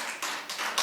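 Church congregation clapping for the praise team at a Sunday service, short bursts of applause rising and dipping in a few uneven waves.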